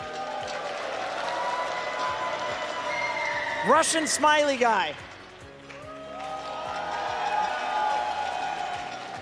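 Crowd at an esports grand final (Dota 2, Tundra vs Falcons, BB Dacha 2024) cheering and applauding, a continuous roar with a louder swell in the middle, under a presenter talking throughout.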